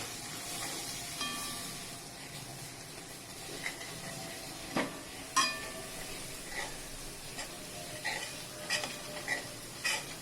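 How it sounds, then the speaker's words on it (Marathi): Ginger garlic paste and Kashmiri chili for pav bhaji sizzle faintly in a pan over a low flame, with scattered clinks and scrapes of a spoon stirring against the metal. "आलं लसूण पेस्ट सगळं मिक्स करून घ्यायचं आहे."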